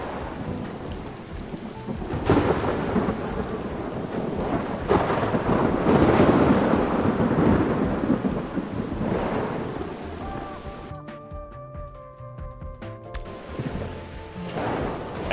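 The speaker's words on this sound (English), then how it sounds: "It would start to rain, wouldn't it?" Rain and thunder in the Ark Survival Ascended game: a dense, steady downpour hisses throughout while deep rolling thunder rumbles and swells, easing off near the end as some faint tonal game sounds surface.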